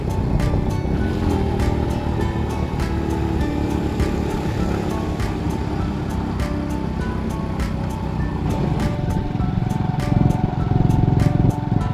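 A motorcycle rides along a curvy road near Ban Rak Thai, its engine droning steadily and loud up close, with wind rumble and a slight swell toward the end.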